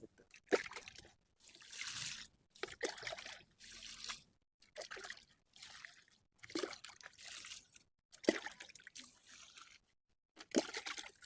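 Water pours and trickles onto a grape plant's potting medium in repeated short bursts with brief pauses between, close and moderately loud.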